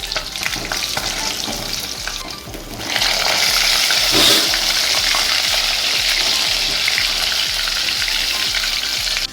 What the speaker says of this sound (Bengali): মাছগুলো পুরো ভাজা হয়ে গেছে